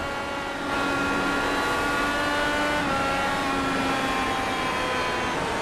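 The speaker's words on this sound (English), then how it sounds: "You can hear the throttle roll off" A loud IndyCar engine whine at Gateway holds a steady high pitch, then eases slightly as the throttle rolls off, a continuous roar without talk.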